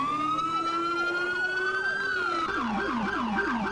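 A Roblox NYPD police cruiser siren wails steadily, then switches into a rapid warbling yelp, loud and continuous with no talk over it.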